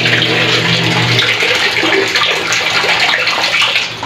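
Water rushes steadily into a filling washing machine, a loud, close, continuous gushing stream with no talking.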